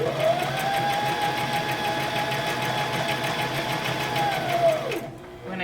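A sewing machine stitches around the nose of an owl stuffy, giving a fast, steady mechanical whir up close for about five seconds before it stops abruptly.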